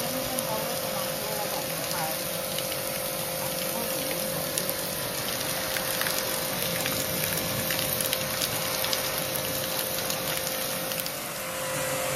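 A steady, close hiss of spraying water cleaning an AC outdoor unit runs without a break, with a pump droning underneath and water splashing off a hard surface.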